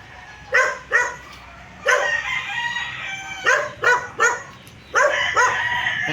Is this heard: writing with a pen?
no